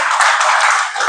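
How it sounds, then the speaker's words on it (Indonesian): Congregation applauding during an Indonesian church sermon for Independence Day, a steady wash of many hands clapping, loud and close, with no pause. "Kasih tepuk tangan itu."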